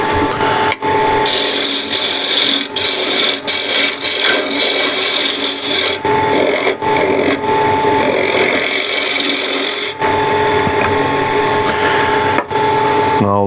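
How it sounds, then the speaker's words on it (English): Wood turning on a lathe while a tenon is cut into the spinning blank, giving a steady, loud scraping and rasping of the tool against wood that runs continuously with brief dips and no talking. "Now I'll just flatten this, and I'll show you how I cut the tenons."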